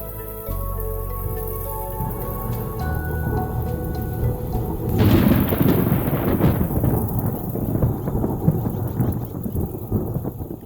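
A thunderstorm breaks after a long drought over a cave in Kenya's Rift Valley: a deep rumble of thunder rolls, then heavy rain pours down loudly and steadily, with drips and splashes on surfaces.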